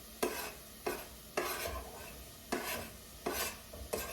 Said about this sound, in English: So I'm going to saute these until they're soft